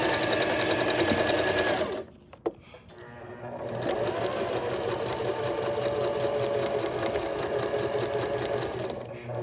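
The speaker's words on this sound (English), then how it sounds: "We will put our machine down. We will start sewing," A sewing machine stitches the side seam of a drawstring bag, a steady loud mechanical whir that stops briefly for a backstitch pause and then resumes evenly.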